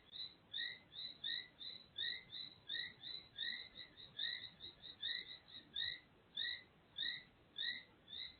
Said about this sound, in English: I have a whole chorus of frogs and crickets and all kinds of insects outside.